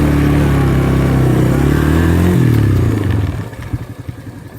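A motorcycle rolling in at low revs, its steady engine drone dropping in pitch as it slows, then cutting to a few rough sputters and clatters as it parks, close and loud.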